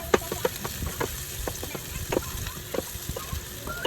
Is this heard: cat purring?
no